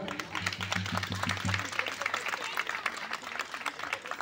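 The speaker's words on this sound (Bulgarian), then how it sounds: "Аплодисменти за тях." Audience applause at a St George's Day concert in Berkovitsa, Bulgaria: dense, steady clapping from a crowd that fills the whole stretch, with a low droning hum under the first half.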